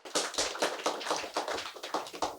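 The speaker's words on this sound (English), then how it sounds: "please applaud for him too" A small audience at a panel discussion applauds a writer with quick, dense hand claps. The clapping comes in bursts for a few seconds and is close and fairly loud, with no talking over it.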